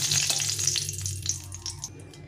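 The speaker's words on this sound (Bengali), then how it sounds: "আমি 3টে শুকনো লঙ্কা ভেজে নেব।" Three dried red chillies fry in hot oil in a kadai, producing a loud, continuous close-up sizzle with light crackle and no talking.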